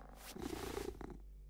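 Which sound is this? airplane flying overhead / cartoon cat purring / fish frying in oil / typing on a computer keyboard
cartoon cat purring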